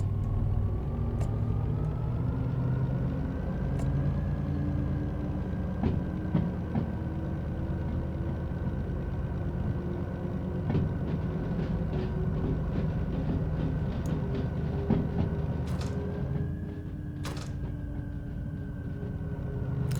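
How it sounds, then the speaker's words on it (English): Train cars rolling and grinding over track switches in the Derail Valley railway simulator, a steady low rumble with metallic squeal tones and occasional clanks throughout, no voices. "Okay, what's grinding? Did we release parking brakes, or is it just the fact that they're running over the switches?"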